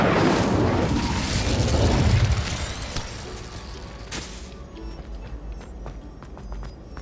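An Incendio fire spell in Hogwarts Legacy goes off as a loud, close boom with a roaring fiery burst that fades over a few seconds into quieter crackles and clicks.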